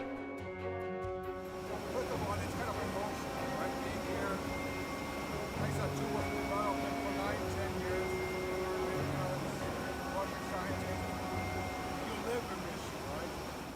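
Steady broadband engine and cabin drone inside a small plane flying about 1,500 feet up, continuous and fairly loud throughout, with a voice talking over it.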